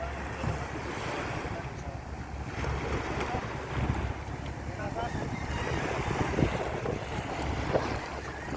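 Steady rumble of a large fuel-carrying boat's engine at sea mixed with waves and wind buffeting the microphone, with a voice talking over it.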